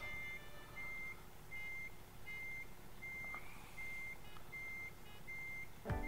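A truck's reversing alarm beeps at a steady, even pace in the American Truck Simulator video game, about eight tones over a low engine rumble, with no talking.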